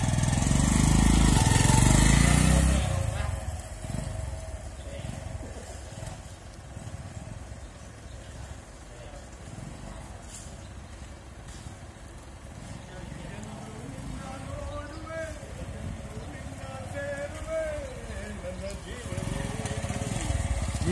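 Tiny motorbike ridden through the streets of Vientiane, its small engine buzzing steadily close by with rising and falling revs, a loud gust at the start and a voice speaking over it.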